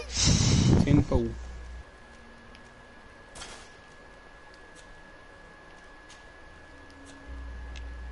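A single loud, abrupt sneeze from a character in the game Greedfall, bursting out at the very start and then giving way to quiet, low ambience.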